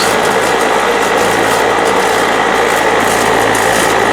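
An electric 18-inch three-speed leaf bud table trimmer for hydroponic harvests runs steadily and loudly, a dense mechanical whir with a fine rattling grind that never lets up.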